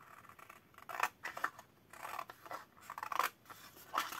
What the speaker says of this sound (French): On vient couper jusqu'ici.